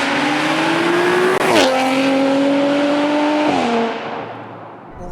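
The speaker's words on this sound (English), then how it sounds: "my first drive on my stage 3 complete Audi RS5" A stage 3 tuned Audi RS5 rated at 626 bhp revs hard under acceleration, its engine note climbing through the gears with quick shift breaks, loud and close, then easing off as the roar fades.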